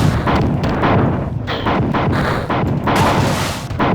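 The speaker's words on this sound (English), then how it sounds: "Well, now I do have a missile launcher, and I am gonna make some people pay! Eat missiles!" A missile launcher fires in the sci-fi shooter Marathon 2: Durandal, producing a rapid series of loud booming blasts and explosions that fill the clip.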